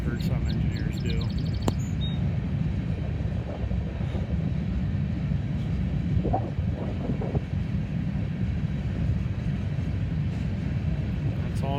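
An empty unit frac sand freight train rolls past at Oak Harbor, producing a steady, loud, close rumble of wheels and cars that holds evenly for the whole stretch, with only brief higher squeals on top.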